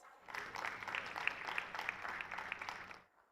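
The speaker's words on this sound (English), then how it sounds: "Let's welcome her with a round of applause." An audience at a large investment summit gathering in Odisha applauds to welcome a speaker, a dense, faint wash of many hands clapping that holds steady for about three seconds before tapering off.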